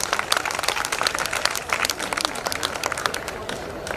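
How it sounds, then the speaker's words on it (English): Audience applause at the LAA Open House 2022, a 150th-anniversary celebration at Loreto Lucknow, heard as scattered, fairly faint clapping from a crowd, with individual claps standing out in a loose, uneven patter. "So a round of applause again for LAA."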